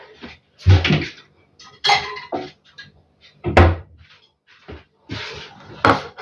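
Several sharp clatters of a plate and dishware being handled, knocking against surfaces in short bursts with quiet gaps between.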